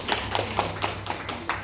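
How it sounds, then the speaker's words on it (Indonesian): A group of women teachers applauding at a school training session, a short burst of rhythmic, evenly spaced claps close by. "tepuk tangan dulu ibu-ibu semua"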